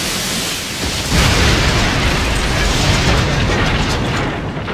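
An explosion in an episode of the anime Fullmetal Alchemist Brotherhood, heard as a loud, dense roar of broadband noise that swells and holds for several seconds before easing off.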